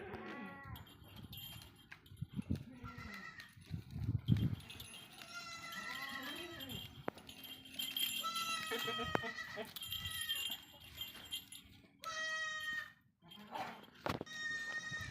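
Goats at a farm bleat over and over, several overlapping nasal cries close by, with faint voices now and then underneath.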